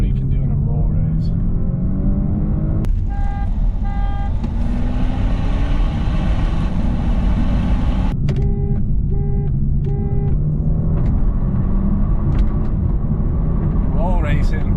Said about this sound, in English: See what he can do in a roll race.